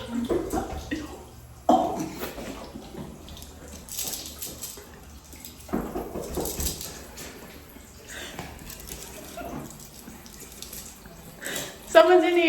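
Water runs from a sink tap in a restroom as hands are washed, a fairly close splashing flow that rises and falls, with people talking over it.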